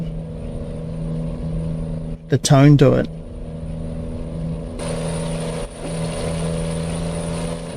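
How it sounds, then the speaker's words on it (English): Cummins M11 truck engine in American Truck Simulator, a steady droning hum heard throughout, briefly broken by a short burst of speech before the engine tone continues. "I love the sound of this particular M11."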